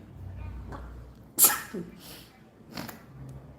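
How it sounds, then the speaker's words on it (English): A single sharp sneeze bursts out over quiet background, followed by soft breathy sounds and a faint short vocal noise. "Let's sneeze again."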